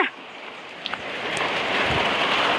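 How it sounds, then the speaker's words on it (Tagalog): Steady rain falls outdoors in a dense, even hiss that grows slightly heavier over a few seconds, with a couple of faint clicks near the start and no talking. "Umulan."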